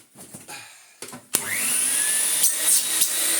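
A 1986 Vax 121 vacuum cleaner under motor restoration switches on after a few knocks and clicks, then runs at a steady, loud whine and roar for a suction test, its pitch slightly wavering.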